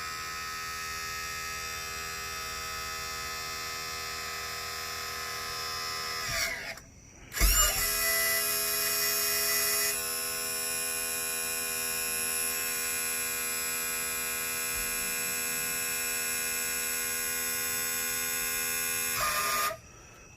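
Electric trim motor on a 2002 Chaparral 220 SSI with a Volvo Penta SX drive, running on its own because of a faulty switch: a loud, steady whining hum that cuts out briefly, restarts with a jolt and runs on before stopping.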